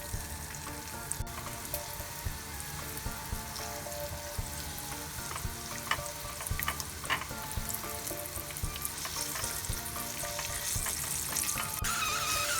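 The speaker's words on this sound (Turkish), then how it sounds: "Bamyalarımız kızarmaya başladı." Okra fries in hot oil with a dense, constant sizzle and crackle, close and steady, broken by occasional light clicks and spatters, with no voices.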